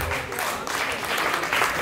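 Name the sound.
audience applause at a concert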